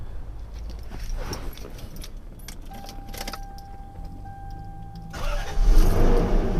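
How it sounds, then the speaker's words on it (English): Keys jangle, a warning chime sounds, then a 30-year-old Lexus LS400 V8 engine cranks and fires up into a loud, deep rumble near the end. "Let me start this car up and let you take a listen"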